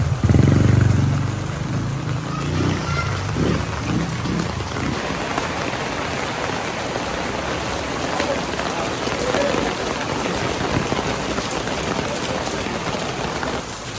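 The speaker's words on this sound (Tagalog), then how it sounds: "Sobrang lakas po ng pag-ulan." Heavy rain pours down outdoors in a steady, loud hiss that fills the whole stretch, with a brief louder rumble at the start.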